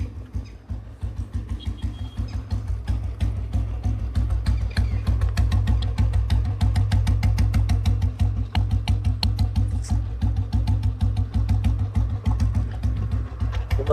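Royal Enfield Bullet motorcycle engine running right after a timing advance, a steady close thumping idle with an even, rapid single-cylinder beat throughout, no voices.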